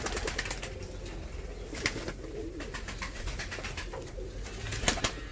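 Fancy pigeons in their coop give soft cooing calls with occasional wing flaps and rustling, a steady low murmur of birds close by throughout.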